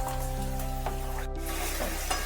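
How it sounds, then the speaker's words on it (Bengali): Food sizzles in a pan after amchur powder is added and is stirred, the frying hiss soft and steady with a few faint scrapes and clinks of the spoon, and no talking. "আমচুরটা দিয়ে ভালোভাবে একটু নেড়ে নিতে হবে।"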